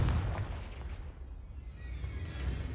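A Confringo fire spell blasts off in the Hogwarts Legacy video game, giving a dense, booming burst with rumbling low end that settles into a sustained roar across the clip, with no talk over it.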